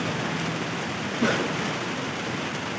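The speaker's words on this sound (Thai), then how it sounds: "เออฝนนะฝน" Steady rain falling outdoors, an even hiss of moderate loudness with a brief slightly louder patter midway, no voices.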